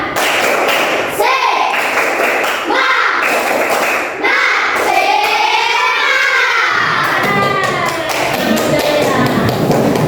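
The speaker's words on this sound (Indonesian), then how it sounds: "Tepuk semangat." A primary school class does a rhythmic spirit clap, a quick run of sharp taps and thuds repeating in a pattern, close and loud, with children's voices mixed in.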